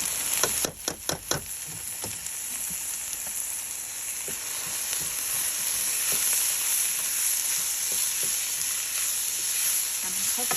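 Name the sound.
soaked freekeh added to frying browned onions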